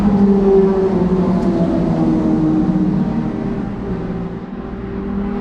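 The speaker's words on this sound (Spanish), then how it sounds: "Parece que hay una competencia de moto hoy." Motorcycles rev during a race, a loud, steady mechanical drone that holds at one level with no voices over it.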